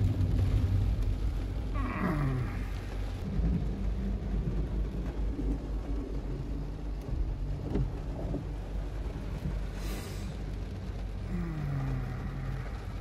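Heavy rain drums without pause on a car in Shah Alam traffic, a broad steady wash with a deep rumble underneath, joined by a few brief passing whooshes.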